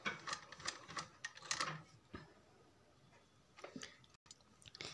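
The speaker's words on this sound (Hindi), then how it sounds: "देखिए हम इधर से सिलाई लगाते हुए इसकी सिलाई पूरी करेंगे।" A sewing machine stitches a sleeve in short, quiet bursts of rapid mechanical clatter, separated by pauses and soft handling noises, close by and without talk.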